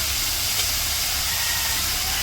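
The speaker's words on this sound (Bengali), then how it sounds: "এখন শাক দিয়ে দিতেছে।" Greens are tipped into a hot pan of shrimp and spices in a village-style home kitchen, producing a loud, steady, close sizzle that fills the whole moment without any talk.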